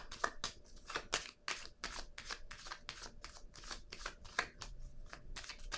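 Tarot cards are shuffled in a rapid run of crisp riffling bursts, close and fairly quiet, repeating in an uneven rhythm with no talking over them.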